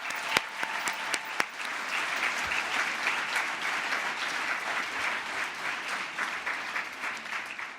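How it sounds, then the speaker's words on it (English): Sustained applause rises from the audience at a Goldsmiths, University of London graduation ceremony, an even, full wash of clapping opened by a few sharp, close individual claps. "So a grand round of applause to everyone."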